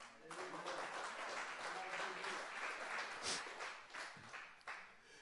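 Church congregation applauding, a sustained dense wash of many hands clapping that fills the room steadily for several seconds, heard from within the crowd at moderate loudness, with no clear speech.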